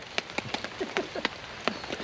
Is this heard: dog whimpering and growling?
no